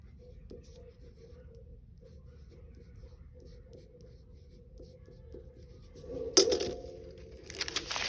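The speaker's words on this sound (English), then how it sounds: "So I'm going to go ahead and put my name here." Soft, close scratching of a pen or marker writing a name on construction paper, made of short strokes. Louder rustling and handling of the paper comes near the end.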